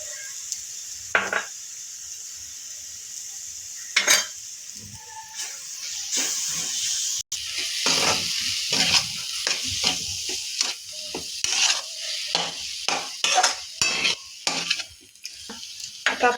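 Potato filling for vada pav is stirred and fried in a pan: a steady hiss of frying sits under repeated scraping strokes of a spoon against the pan, close and fairly loud, with the stirring quickening toward the end.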